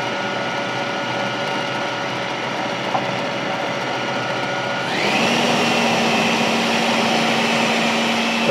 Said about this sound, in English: Now go ahead and you can put your blender on high, and we're just gonna let it go for a few minutes